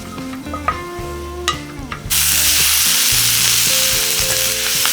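Chopped garlic, cumin seeds, turmeric and paprika hit hot oil, a sudden loud, steady sizzle that bursts in partway through after a few soft tonal sounds.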